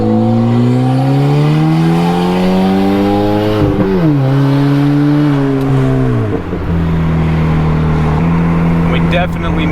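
A turbocharged Honda Civic accelerates hard along a main road, its engine note climbing steadily in pitch through the gears with brief dips at each shift, loud and continuous from inside the car.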